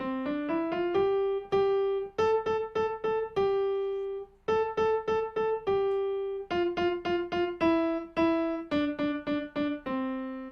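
The children's tune "All My Little Ducklings" is played on piano, single notes in a steady, stepping rhythm, rising and falling with short pauses between phrases.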